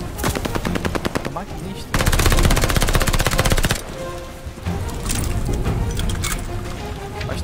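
Loud, continuous automatic machine gun bursts in the video game Call of Duty Vanguard, rapid and rattling with brief breaks between volleys, while someone speaks briefly over the gunfire.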